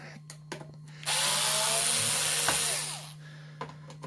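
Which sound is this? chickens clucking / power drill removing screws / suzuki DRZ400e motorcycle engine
power drill removing screws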